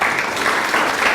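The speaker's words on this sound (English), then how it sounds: "round of applause on that." Brief round of applause from a small group during a podcast interview, a short burst of steady clapping at moderate loudness.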